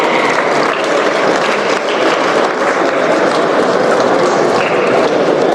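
Audience at an Indian startup festival applauds steadily and densely throughout, a loud continuous wash of many hands clapping with no speech over it.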